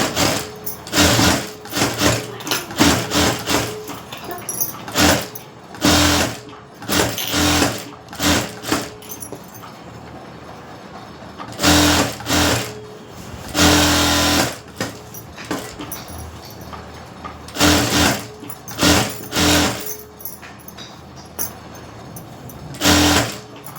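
A sewing machine stitches the back neck of a blouse in loud, steady bursts of rapid mechanical whirring, stopping and restarting several times with short quiet gaps between runs.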